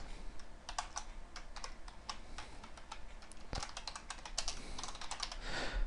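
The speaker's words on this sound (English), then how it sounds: "you may see me typing and you're probably wondering, how is he typing so fast?" Rapid typing on a computer keyboard while writing a C# Hello World program: dense, irregular clicks of keys close up, continuing steadily with a sharper thump partway through.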